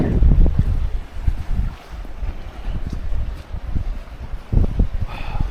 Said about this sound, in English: that wind's kind of hitting us right in the face